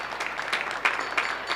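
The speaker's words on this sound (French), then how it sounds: "Ça applaudit toujours en Seine-et-Marne, bravo la Seine-et-Marne" A small group applauding at a distance in the Seine-et-Marne area, a soft steady patter of clapping with a few louder bursts, no voices on top.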